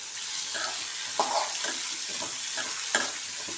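A few mint leaves gently sauté in a pan for a soya bean gravy, giving a faint, steady sizzle with occasional soft stirring clinks and scrapes, quiet and close with no voices.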